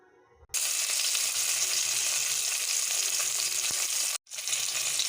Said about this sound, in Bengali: এখন ডিমগুলোকে ফ্রাই করে নিই।